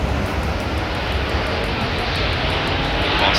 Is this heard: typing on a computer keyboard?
no